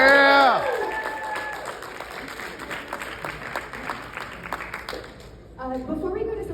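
A live convention audience cheers and applauds after a question about more Toxic Crusaders, starting with a loud whoop and a shout, then settling into steady clapping and crowd noise that swells again near the end.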